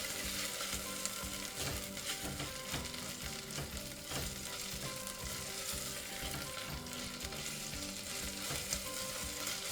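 Ginger garlic paste and garam masala sautéing in a hot pan for a Rajasthani mutton red curry, a steady dense sizzle with scraping stir strokes throughout, close and continuous.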